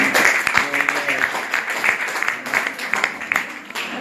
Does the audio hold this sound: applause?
yes